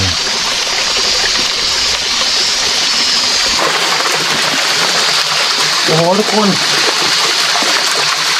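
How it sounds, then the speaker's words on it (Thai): Forest stream spilling over layered rocks like a small waterfall, a steady broadband rush of water running throughout, with someone talking over it and a brief exclamation near the end. "คล้ายน้ำตกนะสวยมากครับ บริเวณนี้นะฮะเป็นก้อนหินด้วยนะฮะ ไหลมาเป็นชั้นเป็นชั้นนะ"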